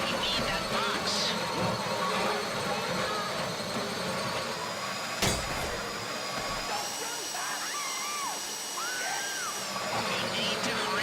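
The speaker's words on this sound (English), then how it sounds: "If the drill burns out, this whole thing will take too long." A drill grinds steadily into a bank vault deposit box during a Fleeca bank heist in GTA 5, a continuous whine with pitch shifts and a sharp clank midway, heard under game chatter and background noise.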